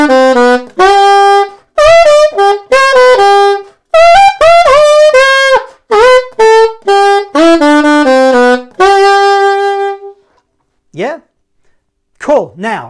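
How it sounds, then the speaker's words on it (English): A solo alto saxophone plays a lively melody in short phrases with brief pauses, loud and close, ending on a few bending notes. "It's got a little sax solo right in the middle"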